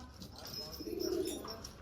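A pigeon perched on a house rooftop gives a single faint, soft coo amid quiet background noise.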